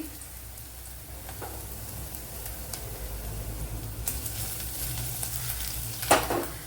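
Garlic and ginger sizzle steadily in a tablespoon of hot coconut oil, a soft continuous fry with occasional stirring scrapes and a brief sharper crackle near the end.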